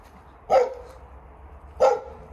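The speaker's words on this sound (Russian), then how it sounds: "У нас Вега лает на человека." A dog at a wolf park enclosure barks twice at a person, two loud, short, close barks about a second apart with quiet in between.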